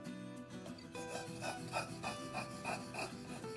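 Knife blade being sharpened, with rhythmic rubbing strokes against a stone or rasp repeating about every half second, close and fairly quiet.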